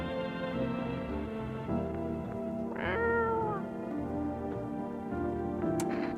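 A cat meows once inside a video game, over a steady backdrop of game music, with the rising, harmonic cry standing out clearly at moderate loudness before the music carries on.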